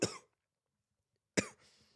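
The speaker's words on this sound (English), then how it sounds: "why won't I stop coughing?" A person coughs twice, each a sharp, close burst separated by about a second of silence.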